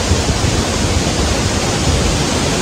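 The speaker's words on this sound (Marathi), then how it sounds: "वॉटरफॉल मस्त आहे" Waterfall at Katta village in scenic Konkan, a steady dense roar of falling water filling the whole clip, loud and continuous with no pauses or voices.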